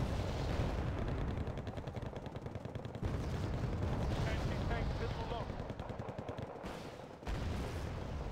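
Dense video-game battle gunfire and artillery shooting crackle continuously, with rapid repeated shots and heavy booms, and voices talking underneath.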